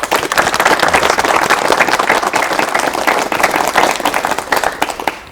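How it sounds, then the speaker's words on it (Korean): A studio audience on a 1985 KBS talk show claps loudly to welcome a guest, brisk and dense applause that swells quickly, stays full, then begins to thin near the end. "박수로 맞이해 주십시오."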